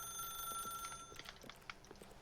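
A telephone ringing in The Stanley Parable video game, a shrill electronic ring that cuts off and gives way to clicks and handling noises as the receiver is picked up.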